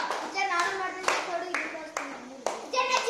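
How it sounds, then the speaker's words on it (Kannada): Fifth-grade schoolchildren clap in a classroom: a few sharp, separate claps land at uneven intervals, close and fairly loud, while a voice keeps speaking over them. "ಚಪ್ಪಾಳೆ ಹಾಕ್ರಿ"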